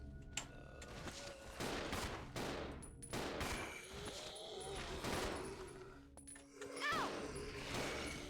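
Gunshots in the Resident Evil 0 video game crack out as a series of loud, irregular blasts mixed with mechanical clatter, fairly close and dense throughout.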